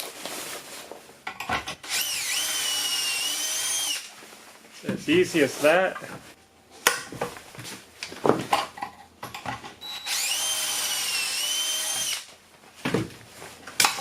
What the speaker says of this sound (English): how to drill out some pocket holes